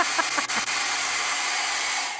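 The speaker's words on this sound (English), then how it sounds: "if I turn on my hairdryer" A hair dryer blows with a steady, breathy rush of air that holds constant throughout, close and fairly loud.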